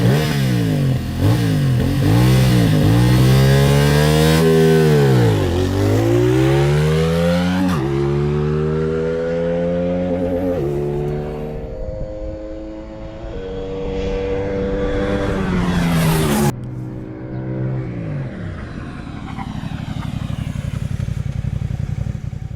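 A SafeMoto 450 SR motorcycle engine revs loud and close, its pitch sweeping up and down through several throttle blips before settling into a rough idle.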